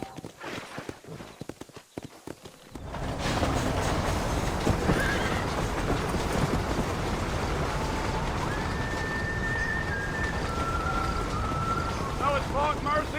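Horse in Red Dead Redemption whinnies over steady hoof clip-clops and a wind-like rush, all loud and sustained after a brief quieter opening, with voices talking.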